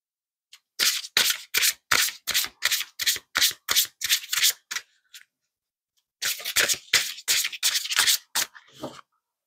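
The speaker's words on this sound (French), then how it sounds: "c'est des très grandes cartes que j'ai du mal à mélanger" Very large oracle cards being shuffled by hand, a close run of sharp rhythmic riffling bursts, a pause of about a second, then another quick series of riffles, with no speech.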